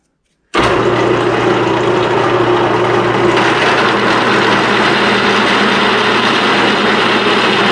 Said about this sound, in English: Drill the half inch diameter hole now.